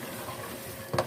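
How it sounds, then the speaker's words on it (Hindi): Ginger, green chili and tomato are stirred in a hot pan, a brief moment of soft frying hiss ending in one short scrape of a spoon against the pan. "अभी हम अदरक, सब्ज़ मिर्च, टमाटर को मिक्स कर लेते हैं"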